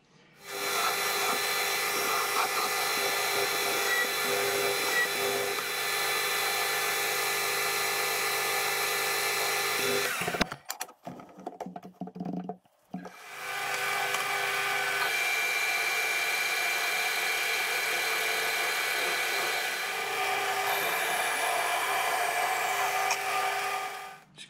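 A lathe parts off a turned pin or bush for a Yanmar excavator, a steady whining cut that runs for about ten seconds, drops out briefly amid clatter, then resumes just as evenly and close by.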